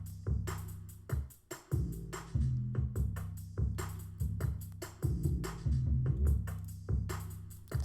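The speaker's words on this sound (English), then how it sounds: "if we remove the sample now and just listen to the drums and the 808s, they will sound like this" Trap beat built in FL Studio: punchy kick and snare hits over booming, sustained 808 bass notes, with fast hi-hat rolls and a steady driving rhythm, loud and without vocals.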